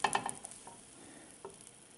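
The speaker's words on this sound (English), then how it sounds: "let it melt. Swirl it all around with your wooden spoon" Butter melts in a pan with a soft, low sizzle while a wooden spoon swirls it, giving a quick cluster of light taps and scrapes at the start and another brief knock later, close and quiet, with no speech.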